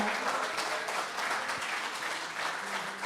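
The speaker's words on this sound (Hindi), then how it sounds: "दोस्तों, जोरदार तालियों से स्वागत करेंगे शारिक कैफी साहब का।" A mushaira audience applauds a poet as he is welcomed, with dense, steady clapping from the crowd filling the whole stretch at moderate loudness and no voices on top.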